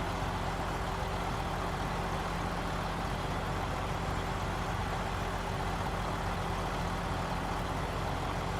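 A truck engine in the Snowrunner game drones steadily, a continuous low idling rumble with constant tonal hum throughout and no speech.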